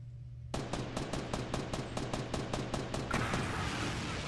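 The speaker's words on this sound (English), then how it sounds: "Who's shooting that?" Rapid automatic gunfire in the Fortnite Battle Royale video game starts suddenly after a quiet moment, a fast steady burst of about a dozen sharp shots, with a denser rattle of shots near the end.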